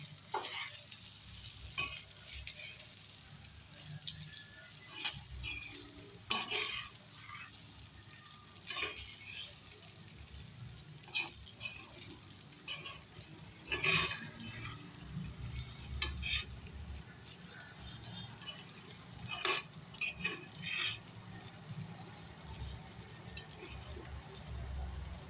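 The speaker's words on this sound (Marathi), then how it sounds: "साबुदाणा ॲड करते. चांगलं मिक्स करून घेते." Sabudana khichdi being stirred as it fries in a pan, with steady sizzling and repeated scraping, clinking spoon strokes against the pan, fairly faint and close.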